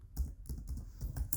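Quick run of keystrokes on a computer keyboard, close and soft, with about five or six clicky taps in an uneven rhythm and no talking.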